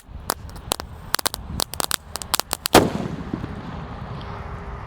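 A new small 'mercon kilat' firecracker sets off a rapid string of sharp pops crackling for a few seconds, ending in one bigger bang followed by a fading rumble.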